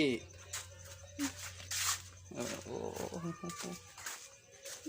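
Persian-Thai mixed-breed cat meowing a few times, short tonal calls near the mic, mixed with voices talking over a low steady hum.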